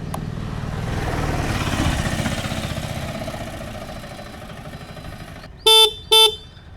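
Two short, loud horn beeps from an Ola Roadster X Plus electric motorcycle, sounding close together near the end after a stretch of low background rumble.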